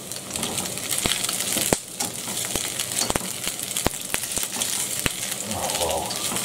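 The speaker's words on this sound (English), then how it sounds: "And we'll throw in the onion rings." Onion rings tossed into a pan of leftover sweet and sour chow mein, giving a busy sizzling fry with a string of sharp clicks and taps from utensil and pan, fairly close and steady throughout.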